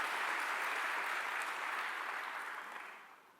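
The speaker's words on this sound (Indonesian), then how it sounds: "Tepuk tangan buat Yesus." Church congregation applauding during a sermon, a dense wash of many hands clapping that starts full and gradually fades out over a few seconds, with no talking.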